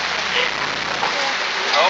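Rain falling outdoors, a dense steady hiss of drops on surfaces, loud and close throughout.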